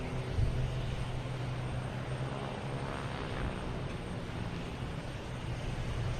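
Small Cape Air propeller planes taxiing to line up for takeoff at Boston Logan Airport, a steady distant engine drone with a low hum that holds level across the whole stretch, outdoors.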